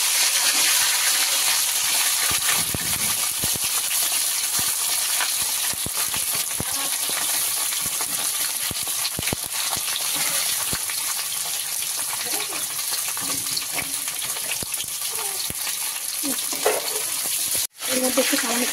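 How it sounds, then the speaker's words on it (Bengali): Vegetable stems frying in oil with panch phoron for a tilapia fish curry, a loud, constant sizzle and crackle with scattered pops and scrapes of stirring, close up. "এই ডাঁটাগুলোকে পাঁচফোড়নের মধ্যে একটু ভেজে দেবো"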